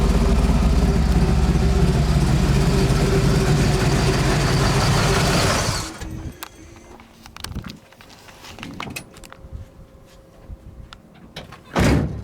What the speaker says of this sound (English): That 440 idles down really nicely and sounds awesome.